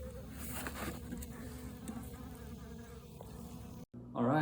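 A few remaining honey bees buzz in a hive, a steady close droning hum that persists until a brief cut near the end.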